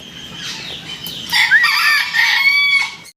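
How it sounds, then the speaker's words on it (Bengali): Indonesian crossing fizzle chickens: a rooster crows loudly and close, one long crow rising over soft background clucking from a hen. "আর মুরগিটা তো ওই যে উমের মতো হয়ে গেছে, কক কক শব্দ করতেছে।"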